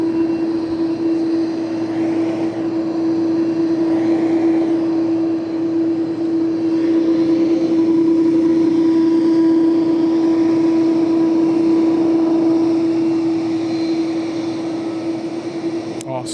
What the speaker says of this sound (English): Dynasty about ready for taxi there